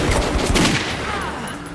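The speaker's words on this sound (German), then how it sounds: "Das war ein herrlicher Kopfschuss" Gunfire in Metro 2033 Redux during a headshot: a quick burst of several sharp, close shots in the first half second, followed by a fading rumbling tail.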